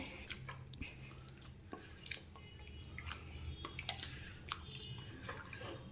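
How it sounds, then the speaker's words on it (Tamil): Chicken masala gravy for a Chicken Changezi beginning to simmer in a pan, with soft wet bubbling, popping drips and squishy sounds scattered over a low steady background, fairly close and moderately quiet, with no talking. "ஸோ இப்போ பார்த்திங்கன்னா லைட்டாக ஒரு கொதி வர ஆரம்பிக்குது"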